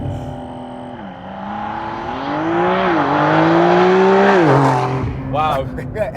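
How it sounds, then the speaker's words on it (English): A 2024 Porsche 911 Dakar engine revs hard and accelerates from a launch-control start in sport mode on dirt, pitch climbing through gears for several seconds before the throttle lifts, followed by brief exclamations. "launch this thing. Launch control. In sport mode."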